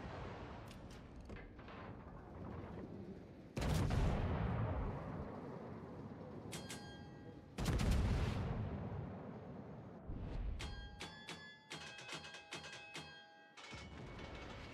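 Heavy artillery fire support in a naval video game: several deep, loud booming blasts with long rumbling decay, interspersed with quieter crackling impacts and faint electronic interface tones, no talking.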